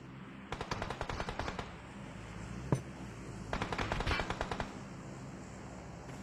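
Automatic gunfire in a battle royale video game: two dense rapid-fire bursts separated by a single sharp shot, loud and close, over a steady game-ambience background.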